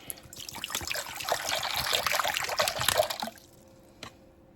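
Water pours in a steady splashing stream for a few seconds, then stops, leaving a faint drip or clink afterward.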